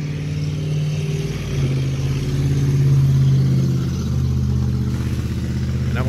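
Heavy trucks passing outside a parked 2022 Grand Design Solitude 280RK fifth-wheel RV, a steady loud rumble of diesel engines with rising and falling drone and some clatter, continuous throughout with no talk.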